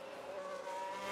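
A Ferrari race car spins in the F1 Manager game, its engine whining steadily with a hint of tire squeal, close and fairly quiet, with no talk over it.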